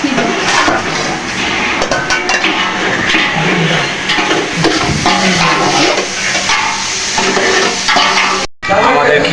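Egg khichuri cooking in a pot while being stirred, a steady close sizzle and scraping of the spoon against the pot running throughout, with clattering kitchen noise and a brief dropout near the end.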